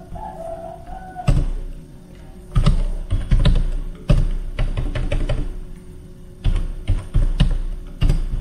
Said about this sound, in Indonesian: coba kita ketikkan root